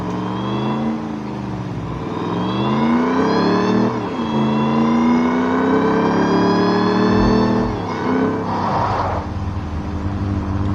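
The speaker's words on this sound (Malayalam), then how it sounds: "വണ്ടി ഇവിടെ ഇടുന്നുണ്ട്, നമുക്ക് മുമ്പിലോട്ട് കയറ്റിയിടാം." A car engine revs up and down as the vehicle is being parked, its pitch climbing and falling in several loud, smooth sweeps, then settling near the end.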